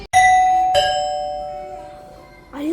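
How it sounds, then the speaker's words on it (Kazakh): A doorbell sounds two bright chimes in quick succession, each ringing out and slowly decaying in a quiet indoor setting, with no talking. "Онда кім звонок шалды?"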